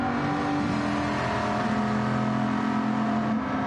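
A touring race car at Brands Hatch revs its engine through a lap battle, heard as a sustained, tonal engine drone that rises and shifts in pitch, steady and fairly loud with no talk.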